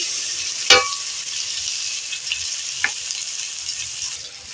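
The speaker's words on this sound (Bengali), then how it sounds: "আলুটা অল্প নাড়াচাড়া করে নিয়েছি" Potatoes and turmeric fry in a pan with a constant soft sizzle, broken by two sharp scrapes of a utensil stirring against the pan, one early and one later, with no talking.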